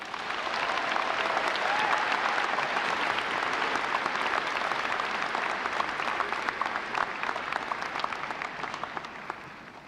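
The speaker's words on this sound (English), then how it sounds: "So let's give a round of applause to Vincent Wang." A high school graduation audience in a large university venue applauds a student with a long, dense round of clapping that stays strong, then thins into scattered individual claps as it fades.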